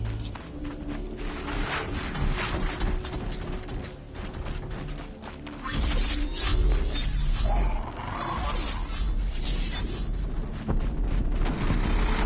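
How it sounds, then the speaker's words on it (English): Combat against a Thunderjaw, a huge machine creature in the video game Horizon Zero Dawn, played on Very Hard. Dense, loud, continuous clanking, grinding gears and ratcheting mechanisms, with heavy booms and crashes throughout. "Sounds of combat. Up there. Sounds like a Thunderjaw."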